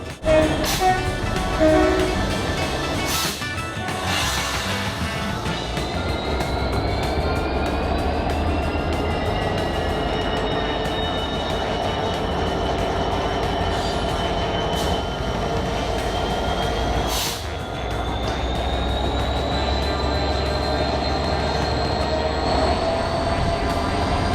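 Toy train wagons and an old brake van roll off together, a continuous rumbling rattle of wheels on track with rising whine-like tones, steady and fairly loud with a brief dip partway.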